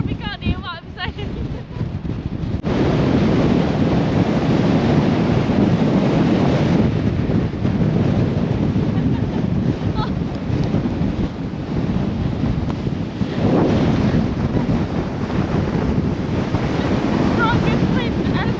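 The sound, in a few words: strong wind blowing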